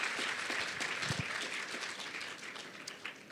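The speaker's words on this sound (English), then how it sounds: "that deserves some applause" Audience at a literary panel discussion claps in a brief, fairly soft round of applause that stays even for a few seconds.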